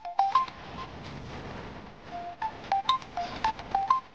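Mobile phone keypad tones, a series of short beeps spaced irregularly across the clip, fairly clear against a quiet indoor background hiss in a Telugu TV serial scene.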